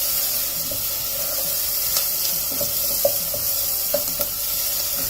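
Sliced onions sizzle steadily in a hot pan on a gas stove, frying until light pink, with a constant loud hiss broken by a few soft clicks and stirring taps, and no talking.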